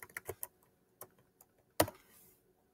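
Someone types a file name on a computer keyboard, with a quick burst of clicking keystrokes, a few isolated taps, then one sharper louder press near the end, close and quiet with no talk.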